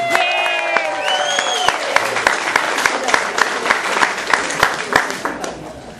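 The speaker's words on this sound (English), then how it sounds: "Round of applause for Gail, everybody" Audience applause greets a volunteer called up onstage during a magician's fairy tale routine: steady, dense clapping with sharp individual claps standing out, over a brief rising vocal tone at the start.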